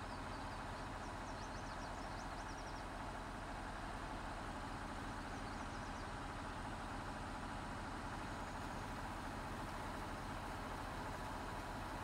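A 40-horsepower rented tractor's engine runs steadily in Farming Simulator 19, a continuous low rumbling drone with no speech over it.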